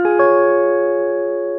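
A clean electric guitar on the neck pickup plays a short phrase, with a couple of quick picked notes that blend into one sustained chord ringing out and slowly fading, close and clear with no talking.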